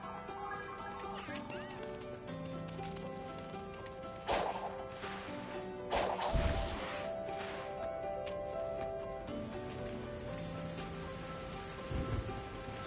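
Continuous rainfall in the video game Sonic Frontiers hisses across the whole stretch, with a few louder splashy bursts and a low rumble partway through, over faint background music.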